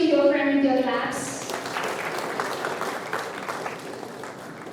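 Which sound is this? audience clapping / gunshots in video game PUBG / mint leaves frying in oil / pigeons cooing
audience clapping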